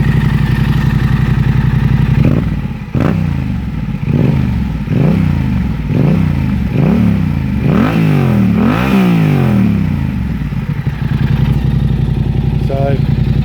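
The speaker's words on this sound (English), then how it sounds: "This is what the exhaust sounds like." Exhaust of a 2020 Yamaha Tenere 700 (XTZ690) motorcycle, close by: a steady idle breaks into a run of sharp throttle blips that rise and fall in quick succession, each climbing a little higher, then it drops back to a lumpy idle.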